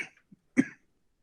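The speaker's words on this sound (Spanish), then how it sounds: "Ya tengo tos de abuelito." A short, sharp cough close by, preceded by a faint throat sound, then silence.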